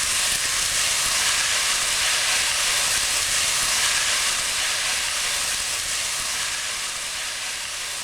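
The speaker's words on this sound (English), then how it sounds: "While the onions are browning," Chopped onions, about two large ones, sizzle as they brown in a heated pan, giving a steady loud broadband hiss that continues with little change for the whole stretch. No voices are heard.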